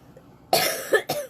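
One sharp, close cough, quickly followed by a second, shorter cough, against a quiet background.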